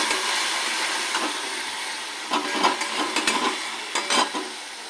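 Banana flower curry sautéed in a pan, with a steady sizzle and scattered clinks and scrapes of stirring, fairly faint and close, with no talk.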